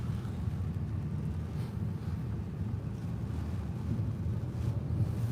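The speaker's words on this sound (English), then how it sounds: "we're getting some strong winds" Strong, gusty storm wind with moderate rain roars continuously and close, a dense low rumble buffeting the microphone and filling the whole stretch with no voices.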